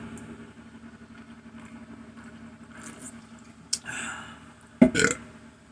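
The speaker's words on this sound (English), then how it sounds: "I guess I am gonna burp every time." Two short, loud belches break out near the end of a quiet stretch, the second one longer and rougher, with a low background hum running underneath and no talking.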